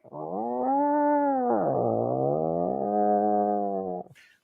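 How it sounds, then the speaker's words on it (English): A cat lets out one long, drawn-out yowl that rises and falls in pitch for about four seconds, loud and close, then cuts off abruptly. "You ever have a cat who does that?"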